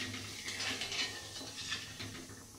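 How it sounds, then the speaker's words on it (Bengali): Sugar is stirred in a pan until it dissolves into syrup for a papaya chutney, making a quiet, continuous scraping and swishing with faint sizzling underneath and no talking. "যতক্ষণ না চিনি গুলে যায় ততক্ষণ কি এইভাবে নেড়ে যেতে হবে"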